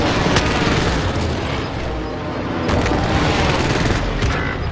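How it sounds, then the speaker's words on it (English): Rumbling airstrike blasts in a shooter video game, with dense booms and crackling bursts rolling continuously and loud over a steady low roar, with sharper impacts spaced through the stretch. "Bring on the airstrike."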